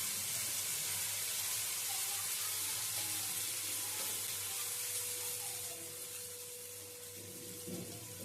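Vegetable idli batter fries in melted butter in a pan. A continuous, dense sizzling hiss runs throughout and eases slightly toward the end, with no talking.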